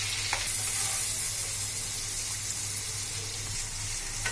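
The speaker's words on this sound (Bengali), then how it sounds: "আমি আলুগুলো ভেজে নিচ্ছি।" Potatoes with a little turmeric and salt sizzle steadily in hot oil, a close, even crackling hiss that carries on alone without any talking.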